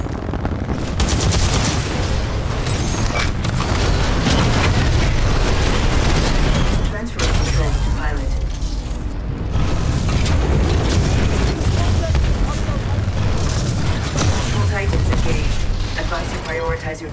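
Heavy mech drop impact in Titanfall 2, a Titan slamming down from orbit amid a loud, dense wall of booming explosions and gunfire that stays near and continuous, with a brief dip midway.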